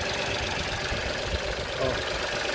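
Renault Sandero three-cylinder engine idling at a steady, continuous low rumble, heard close with no speech over it.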